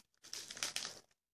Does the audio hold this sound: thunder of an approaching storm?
no